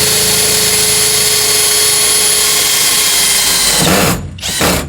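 A power drill drives screws into a round pipe for a rose arch, a loud, steady, high whine close by that cuts off near the end, briefly stops, then restarts.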